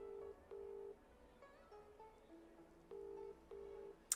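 An outgoing phone call rings unanswered, with repeated flat electronic ringback tones in short even bursts, faint and alone, ending in a brief sharp click.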